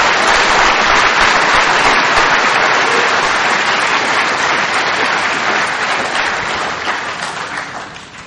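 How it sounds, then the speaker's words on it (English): Audience at an Alcoholics Anonymous speaker meeting breaks into loud, sustained clapping, a dense continuous wash of hands that slowly thins out toward the end. "clap for that."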